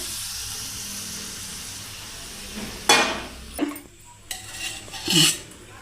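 Fried garlic tipped into a pan while making masala pasta, giving a few short bursts of sizzle and clinking of utensils against the pan, alone and fairly close.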